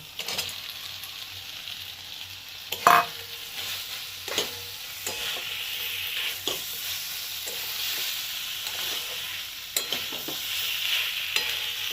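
Soya chunks frying in a pan for a chili soya chunks dish, a constant hiss of sizzling oil with periodic clinks and scrapes of a spoon stirring, close and clear without any talk.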